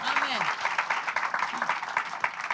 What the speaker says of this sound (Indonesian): Yang bersuka cita berikan tepuk tangan lebih keras lagi.